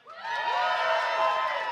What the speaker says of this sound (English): so give yourselves a cheer